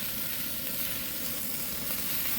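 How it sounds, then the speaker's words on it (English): Burgers sizzle on an outdoor grill with a steady, dense hiss and crackle that holds at an even level throughout, with no voices. "my brother's flipping some burgers"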